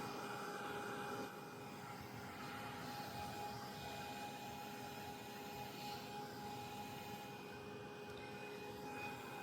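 A heat tool runs steadily while drying wet pigment ink on an art journal page, a constant close whooshing drone with a faint whine that carries through the whole stretch, no talking.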